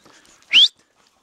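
A handler's sharp, rising whistle calls working sheepdogs off their work: one loud, close blast of about a quarter second, with faint scuffling before it and quiet after.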